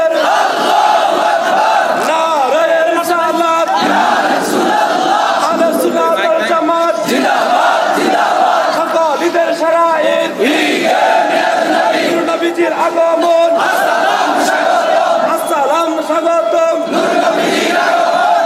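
A large crowd at an outdoor Eid-e-Milad religious gathering in Kachua, Chandpur, roars takbir slogans in unison, loud and continuous with rhythmic swells, call-and-response voices blending into a dense, echoing chant.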